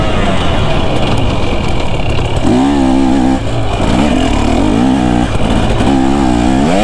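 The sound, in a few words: KTM 250 SX two-stroke dirt bike engine riding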